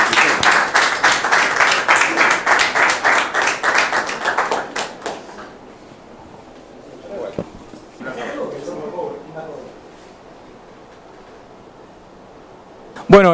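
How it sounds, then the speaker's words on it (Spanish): Strong applause for youth football champions at a junior league awards event, a dense rhythmic burst of many hands clapping that fades after about five seconds, followed by quieter crowd noise, faint talk and a brief sharp sound at the end. "Fuerte aplauso para los chicos de CUSA."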